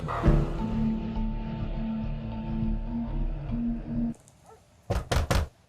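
After a stretch of low background sound, three sharp, loud knocks hit a door in quick succession, police rapping to be let in during a reported domestic disturbance.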